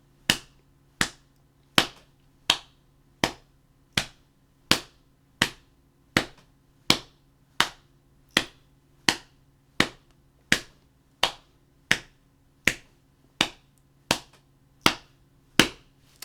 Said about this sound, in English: I want you to clap